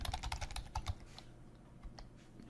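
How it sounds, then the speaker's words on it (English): Fingers tap quickly on a computer keyboard, a close run of crisp clicks that thins out into a few scattered keystrokes near the end. "I'll type in my full name"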